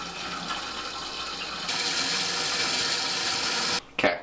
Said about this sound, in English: let's turn on the water and let's fill the bowl.